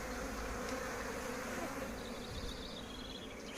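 Bees buzzing steadily around two beehives at an outdoor apiary, a dense continuous hum close to the listener that holds for the whole stretch with no talk.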